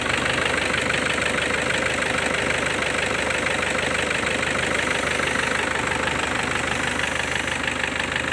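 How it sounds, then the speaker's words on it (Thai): A pickup truck's diesel engine idles steadily up close, a loud, even rumble with a rapid knocking clatter throughout and no voices. "เครื่องยนต์ดีนะครับผมเครื่องยนต์ดีมากมากเครื่องแห้งครับ"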